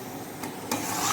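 A spoon scrapes and rasps through a dry mixture of ash gourd in a pan, a close, continuous gritty rubbing with two brief stronger strokes, no voices.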